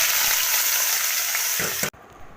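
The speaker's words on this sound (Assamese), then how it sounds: "এইফালে পিঁয়াজখিনি মই ভাজি আছোঁ" Chopped onions fry in hot oil with a loud, dense, continuous sizzle, a couple of stirring scrapes near the end, then the sizzling cuts off abruptly into a much quieter pan hiss.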